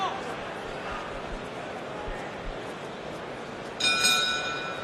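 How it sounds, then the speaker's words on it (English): Round bell at a professional boxing match, a bright ringing tone that strikes near the end over steady crowd noise and a commentator's talk. "So there's the bell."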